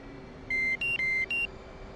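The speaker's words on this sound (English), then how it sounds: "that deedle's just beeping at me because my wings are unlocked" Aircraft cockpit warning in a flight game sounding for unlocked wings, four clear electronic beeps alternating between two pitches in a quick steady rhythm over faint background hum.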